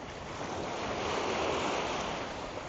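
Sea waves wash in a steady, broad roar of surf with wind rushing across the microphone, continuous and fairly loud with no voices.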